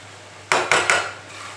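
Three quick metallic clanks of a spoon against a pot ring out close by as mixed vegetables and fenugreek are stirred and roasted, with a low steady hum underneath.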